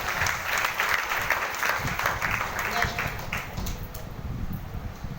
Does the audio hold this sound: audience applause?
yes